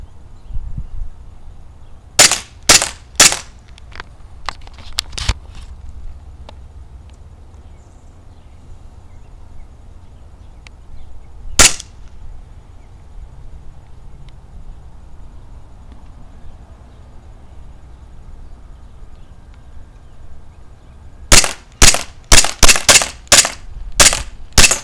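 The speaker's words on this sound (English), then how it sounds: "this gun shoots fine with the little mag" An airsoft pistol, a P226 from KOA, fires sharp snappy shots in scattered singles and a fast string of about eight near the end, close and crisp with quiet room between shots.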